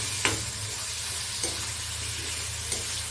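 Food frying in a little oil in a kadai gives a constant close sizzle, with a few sharp spatula scrapes against the pan spaced about a second apart.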